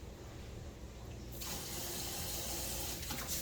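Cold tap water running into a cooking pot holding smoked turkey necks for mustard greens, a steady splashing flow that swells into a stronger gush partway through.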